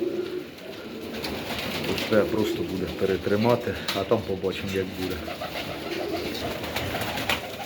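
Pigeons cooing in a pigeon loft, a dense, continuous murmur of overlapping coos close by, with someone talking over them throughout.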